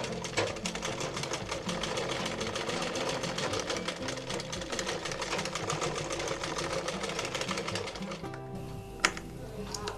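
Sewing machine stitching elastic onto a cloth face mask, a steady close whir of rapid needle strokes running nearly the whole time, then stopping near the end with a small click.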